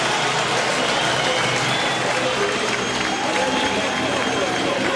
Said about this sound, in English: And there's the roar of the crowd.